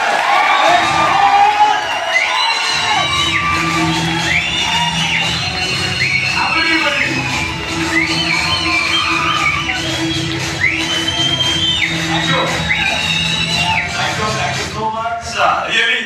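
An audience at a motivational experience-sharing event in Bangalore cheers loudly, with whoops and shouted yells rising over a steady crowd roar for the whole stretch.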